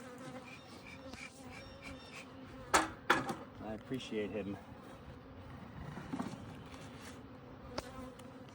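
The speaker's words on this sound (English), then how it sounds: "this is about as agitated as you get the bees" Honeybees buzz around an apiary on a farm, a steady agitated hum with insects darting close past, under intermittent speech and a few knocks and clanks.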